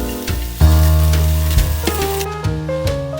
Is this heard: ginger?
yes